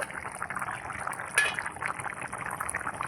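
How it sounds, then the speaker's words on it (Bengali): A covered pot of young jackfruit curry simmering on the stove, giving a steady close bubbling and gentle watery gurgle with one brief louder splash partway through. "কত সুন্দর ফুটছে।"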